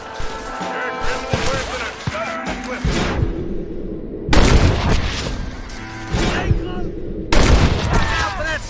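Gunfire in the Western video game Red Dead Redemption comes in loud bursts of rapid overlapping shots and booms, separated by shorter pauses, with game dialogue and music running under it.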